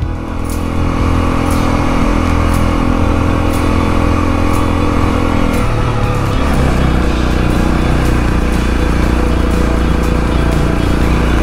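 A Honda CL 250 Scrambler motorcycle climbs a steep ramp in second gear, its engine droning loud and steady with a low throbbing hum that drops slightly in pitch partway through.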